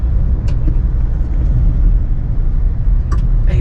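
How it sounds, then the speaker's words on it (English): A 2025 GWM P300 pickup rolls over gravel, a loud, steady low rumble of tyres and engine from inside the cab, with a few faint ticks over the top. "It drives well on gravel."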